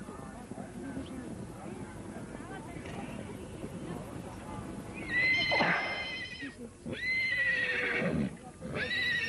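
Horses neigh at a Naadam horse race camp in Mongolia, with two loud shrill whinnies rising in the second half over a low background of murmuring voices and faint movement.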